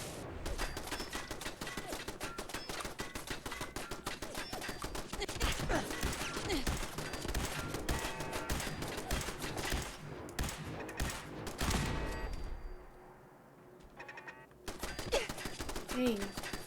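Rapid gunfire from turrets and a player's weapon in the video game Fallout 4, dense bursts of sharp cracks that stop briefly near the end, with voices talking faintly underneath.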